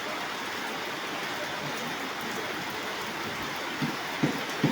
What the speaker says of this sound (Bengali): সকাল সকাল বৃষ্টি হইতেছে